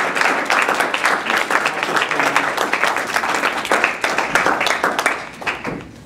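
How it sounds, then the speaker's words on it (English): A crowd at an open mic literary evening gives a loud, sustained round of applause, dense clapping filling the room for about six seconds before easing off. "a round of applause for League of Utah Writers"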